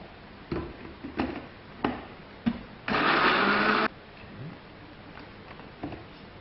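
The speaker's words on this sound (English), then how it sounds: "Going to blend that." A blender purees broccoli soup with nutmeg in one loud whirring burst of about a second, surrounded by quieter knocks and clatter nearby.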